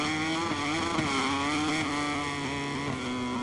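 A Honda motorcycle's engine in the racing game MotoGP 23 at the Termas circuit drones steadily at high revs, a continuous buzzing whine that holds loud and close with slight pitch wavers, no talking over it.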